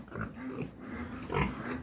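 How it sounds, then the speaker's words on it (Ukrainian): A pig of a meat breed grunts in a barn or shed, several low close snorting grunts with a louder burst near the end, alone without talk. "Взагалі, просто тупо м'ясна порода, це інтересна така вона свинка."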